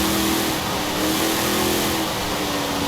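A restored rusty car, supercharged, revs hard in a driving game, its engine holding a loud, steady, sustained drone with no voices over it.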